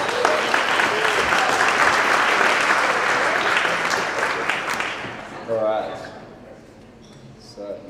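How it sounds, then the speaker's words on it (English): Loud, dense applause from a crowd, sustained for several seconds before tapering off, with a few voices emerging as the clapping fades. "Big round of applause for Ryan."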